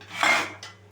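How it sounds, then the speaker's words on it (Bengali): A metal lid set partly over a pot of rice parboiling with salt and white oil for vegetable biryani, giving a close clattering scrape followed by a lighter second clink. "সামান্য ঢাকা দিয়ে দেব, চালটা যাতে সেদ্ধ হয়ে যায়।"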